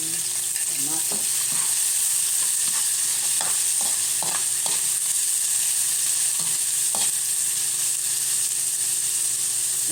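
Garlic and ground pepper sautéing in a pan for misua with patola, a steady loud sizzle with a constant steamy hiss, broken by scattered scraping stirs of a utensil, no talking.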